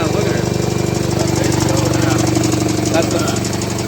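Small engine on a rebuilt minibike with a four-stroke clutch, running steadily with a close, loud, even idle-like chug throughout, no speech over it.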